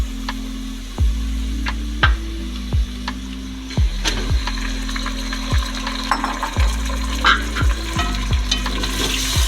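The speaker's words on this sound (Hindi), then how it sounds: "गोश्त डाल के इसको उस वक्त तक हम फ्राई करेंगे जब तक कि इसका कलर चेंज ना हो जाए।" Mutton fries for aloo gosht in a pan with browned onions and garam masala, a steady sizzle broken by a regular rhythm of sharp spoon scrapes against the pan.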